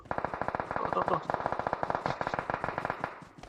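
Rapid automatic gunfire in the PUBG Mobile video game, a dense unbroken stream of loud shots with a player's voice faintly mixed in.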